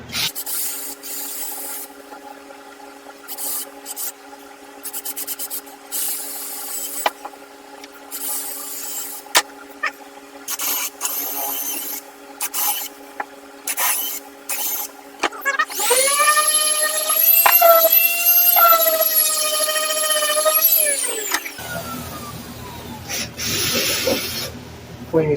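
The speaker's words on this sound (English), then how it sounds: "We'll do pilot holes and then I'll finish it off with a drill bit." A drill bores pilot holes in OSB board with a rising, whining motor tone that holds for several seconds near the end, after a stretch of quieter handling noises and some talking.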